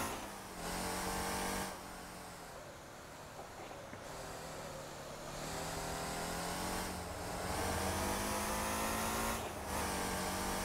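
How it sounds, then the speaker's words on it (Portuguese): A Hummer accelerates along a straight in the driving game Motor Town, its engine climbing through repeated rising gear pulls, with short cuts in sound between shifts, loud and continuous. "a gente vai poder testar ele para acelerar e ver qual é o limite dele"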